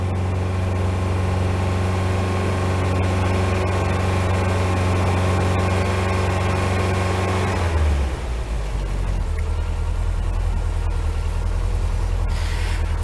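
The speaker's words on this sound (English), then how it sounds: "She's sounding a lot sweeter, but she does need tuning on that carburetor." A Rover P6 engine idles steadily with a steady low rumble, running rich with its carburettor in need of tuning, then the note shifts abruptly partway through as the engine is cut or changes state.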